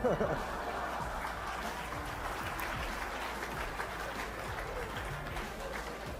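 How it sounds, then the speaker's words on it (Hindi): Audience applause in a hall during a live press conference where a general is speaking, a dense steady wash of many hands clapping that runs unbroken, with a few chuckles and murmurs of talk mixed in. "हाल में मौजूद इंडियन लोगों ने ही इतनी जोर से तालियां बजाईं"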